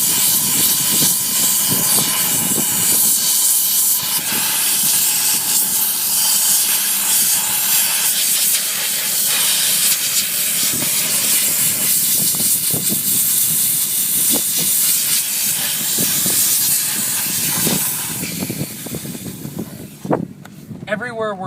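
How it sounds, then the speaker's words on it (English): A VX 5000 vapor steam system hisses steadily as it blasts steam into cracks where food collects, loud and continuous throughout, with a voice talking over it. "Everywhere where I feel that it's maybe unsafe to use the steamer, I'll just do by hand."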